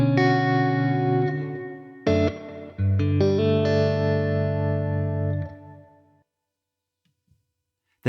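Electric guitar through the spring reverb setting of an MXR reverb pedal: a sustained chord, a quick break, then a strummed chord ringing out near and loud before trailing away into a short fading tail and silence.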